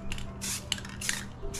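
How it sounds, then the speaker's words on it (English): Spray paint can releasing several short hissing bursts in quick succession, close and fairly loud, with brief gaps between them and no talk. "all you do is extend it a little bit by small spraying"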